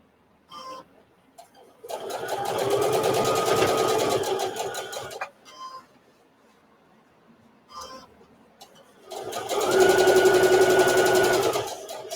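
A sewing machine stitches fabric for a bowl mitt in two bursts of rapid, even clatter, each a couple of seconds long. The sewer slows around a curve between them, leaving quieter gaps with light handling noises.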